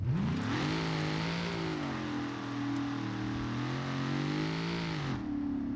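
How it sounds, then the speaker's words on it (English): A Ford Mustang GT's Coyote engine in the video game BeamNG revs up and holds a steady, loud drone for several seconds, then drops back down, clear and close with no talking. "You get to hear the beautiful Coyote engine."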